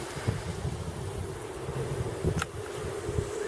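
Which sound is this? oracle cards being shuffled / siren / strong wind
strong wind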